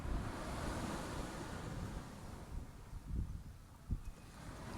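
Ocean waves wash and rumble continuously against steady wind noise, with a few louder surges toward the end and no voices.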